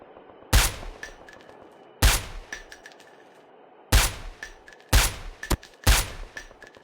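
Sniper rifle shots in COD Mobile battle royale, five loud sharp cracks spaced about one to two seconds apart, each with a short echoing tail, plus a few fainter distant pops between them.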